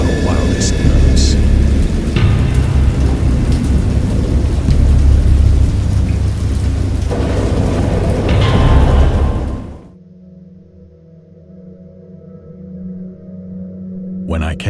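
A thunderstorm in a horror video game, with heavy steady rain and low rumbling thunder, which cuts off abruptly near the end, leaving a faint low hum.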